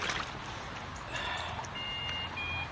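Electronic bite alarms on fishing rods beep in short high-pitched tones, a couple of steady bleeps toward the end, over a broad outdoor rushing background.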